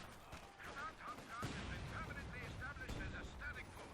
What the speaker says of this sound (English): there's some covering fire from these 2 other squads